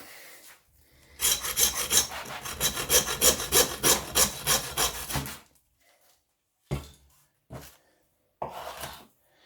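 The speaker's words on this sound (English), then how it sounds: "now I want to take this and cut it straight through." A saw cuts straight through the knuckle end of an organic lamb leg in a steady run of about a dozen rasping strokes, close and loud, followed by a pause and a few separate scraping knocks.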